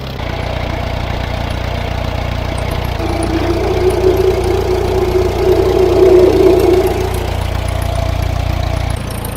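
A worn 1953 David Brown DB30 tractor engine runs steadily at idle, a low continuous rumble with a slightly rising hum in the middle before cutting off near the end, with no voices.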